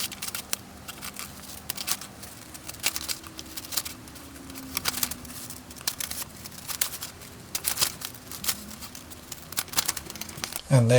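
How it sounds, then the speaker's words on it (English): Repeated crisp snips of scissors cutting paper, irregular and close, with faint background hum and a brief voice at the end. "So a pair of scissors and I'll get these cut out."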